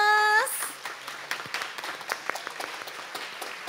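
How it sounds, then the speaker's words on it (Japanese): A symposium audience applauds the speakers; a tone fades into a swell of clapping that thins into scattered, distinct claps from a large hall crowd. "今一度登壇者の皆様方に大きな拍手をお願いいたしま"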